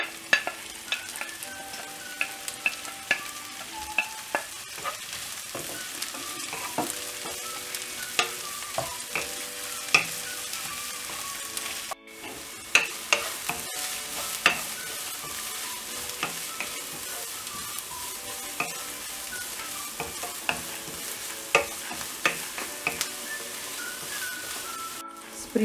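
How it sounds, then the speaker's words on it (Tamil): Spring onions fry in a pan with a steady close sizzle and frequent scraping, clinking stirs throughout, interrupted by one brief pause midway. "இப்போ வந்து ஸ்பிரிங் ஆனியன் போட்டுட்டு ஃப்ரை பண்ணிரலாம்"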